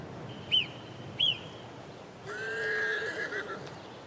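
A free-roaming horse in the Pyrenees mountains near Gavarnie whinnies at a distance, with two short high calls followed by a longer, wavering neigh against quiet outdoor ambience.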